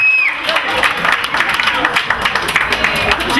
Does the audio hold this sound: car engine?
no